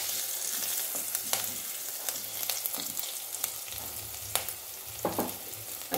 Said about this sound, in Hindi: सौंफ और कसूरी मेथी ये डाल दूँगी और थोड़ा सा मिक्स होने देंगे इसको हम लोग